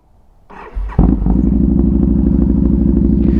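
A motorcycle that keeps stalling cranks and catches, then settles into a loud, steady, close-up idle with an even rhythmic throb.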